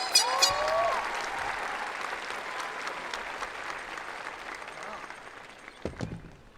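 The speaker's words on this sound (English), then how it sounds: "Please give them a round of applause." An audience at the Dalton High School graduation ceremony applauds steadily as two honorees stand to be recognized. The clapping fades toward the end, and a brief voice or thump can be heard near the close.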